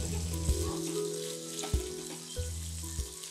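Curry leaves crackle in hot oil for a tempering with asafoetida and dried red chillies, a close, bright sizzle broken by sharp pops and spits, with a low humming tone underneath.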